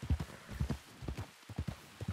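A horse's hooves clip-clop in a steady, lively trot during a ranch ride in a roleplay video game, the dull thuds close and fairly quiet with a brief pause in the middle.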